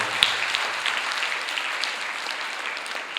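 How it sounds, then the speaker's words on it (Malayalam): An audience at a motivational speech event applauds with continuous, even clapping that sounds moderately distant and holds steady before easing slightly. "കയ്യടി കൊടുത്തുകൊണ്ട് നമ്മൾ പറഞ്ഞു"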